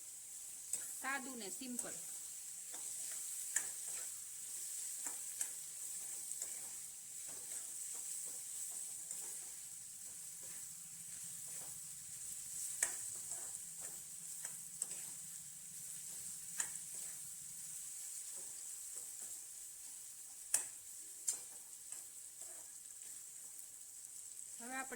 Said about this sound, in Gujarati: હવે આપણે એને તેલમાં સડવા દઈશું